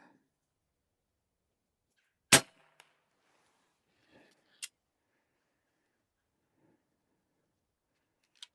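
An 18th-century Girardoni air rifle firing at targets outdoors: one sharp, loud report, then a couple of faint distant ticks and clicks in long stretches of near silence.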